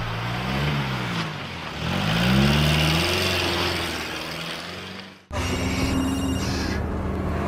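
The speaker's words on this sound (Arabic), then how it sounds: "واش هذا وقت التليفون؟" A telephone rings with a bright, repeating electronic tone near the end, after a running car engine hum in a taxi scene from a Moroccan film.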